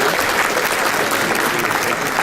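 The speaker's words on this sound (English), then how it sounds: "Let's all give them a round of applause" An audience at a bar association gathering claps loudly and steadily, a dense wash of many hands close by with a faint murmur beneath.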